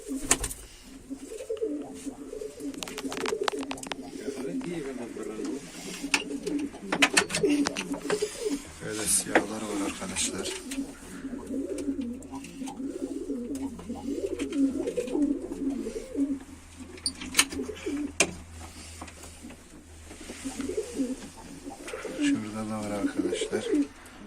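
Soft, repeated cooing of Mardin tumbler pigeons in a coop, continuous and fairly close, with occasional rustles and flutters; someone talks over the birds throughout.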